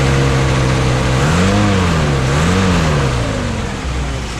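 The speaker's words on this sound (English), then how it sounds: "Rev it up just a little bit." A 1957 Chevrolet Bel Air Sport Coupe with a 283 V8, still cold, is revved up twice from a rumbling idle, close and loud, each blip rising and falling smoothly before settling back.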